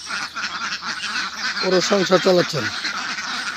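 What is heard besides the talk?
ducks quacking on a duck farm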